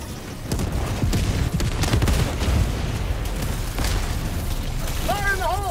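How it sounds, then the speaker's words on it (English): A grenade blast in the game Helldivers, a heavy boom followed by rumbling and scattered pops, with a voice talking over the battle. "throwing grenade!"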